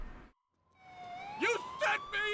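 A police siren in the video game Grand Theft Auto IV rises and wails at moderate distance, with a short gap of silence before it.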